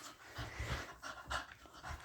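Dogs panting rapidly up close, soft quick breaths mixed with faint whimpery yaps, quiet and continuous over about two seconds.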